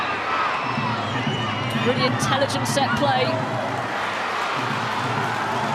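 Stadium crowd roaring and cheering at a Women's Super League match between Manchester United and Manchester City, a steady wash of massed voices rising slightly mid-clip, with a commentator talking over it throughout.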